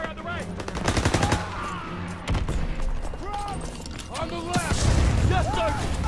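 Rapid gunfire in the Call of Duty WW2 campaign, dense machine-gun bursts and single shots rattling throughout with explosions, under shouted voices of soldiers.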